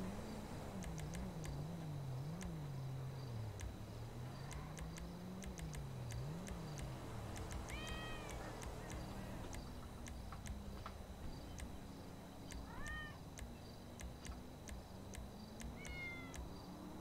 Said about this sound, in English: That cat is still really fucking loud.